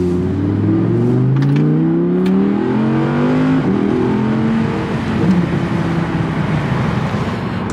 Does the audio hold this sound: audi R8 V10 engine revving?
yes